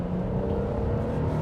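A 2025 Nissan Frontier Pro-X mid-size pickup accelerates at about a third throttle, its engine giving a steady, moderate hum and drone from inside the cab.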